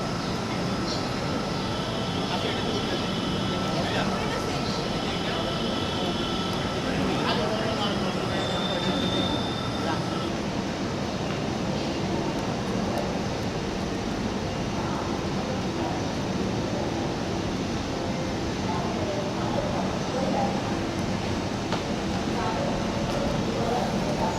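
A metro rail train running, a steady unbroken rumble and rush of wheels on track with faint voices blended into the background.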